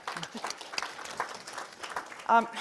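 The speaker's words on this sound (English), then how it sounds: "I give each and every one of you an applause" Scattered audience applause at an economic reconciliation summit, sparse claps rising under and between speech, with a short voiced sound near the end.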